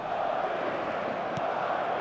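A stadium crowd in the eFootball game, a dense and constant roar that holds at an even level throughout, with a single faint tap partway through.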